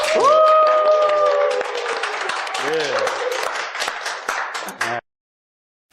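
An audience at a Korean political talk event claps for campaign publicity chief Lee Jung-hyun. The clapping sits under voices and sustained tonal sounds and cuts off abruptly near the end.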